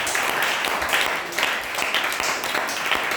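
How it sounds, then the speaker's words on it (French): Church congregation breaks into sustained applause and cheering, a dense wash of clapping at steady loudness lasting the whole stretch, with a few voices faintly mixed in. "Une belle acclamation."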